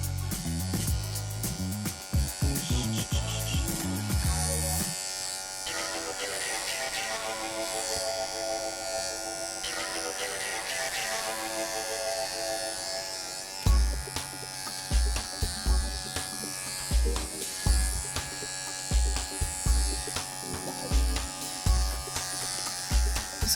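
Electric clippers buzz steadily while grooming a standard poodle. The hum and whine shift in pitch and load as the blade moves through the coat, with rhythmic pulsing strokes in the final stretch.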